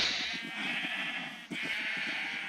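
Sheep bleating in Minecraft, a couple of drawn-out nasal bleats in quick succession, fairly loud and close with no talk over them.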